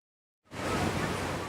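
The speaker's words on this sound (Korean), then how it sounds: "쏟아지는 물줄기가 장관을 연출하는 나이아가라 폭포." Water pours down Niagara Falls in a steady, dense roar that cuts in abruptly after a short silence and holds at an even level with no voices.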